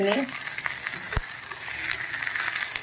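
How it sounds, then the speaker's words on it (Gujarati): Green corn kernels sauté in ghee and oil for khichdi, giving a close, continuous sizzle and crackle with a stir-like knock partway through. "અને સરસ મજાનું ઘી અને તેલના અંદર સંતળાવા દેવાનું છે."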